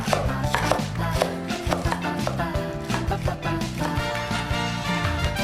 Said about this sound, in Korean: 대파는 송송 썹니다.